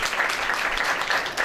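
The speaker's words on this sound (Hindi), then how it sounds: "जोरदार तालियां उनके लिए।" A church congregation in Green Town, Lahore, applauds visiting pastors at a worship program, a dense, steady burst of many hands clapping at once, loud and close throughout.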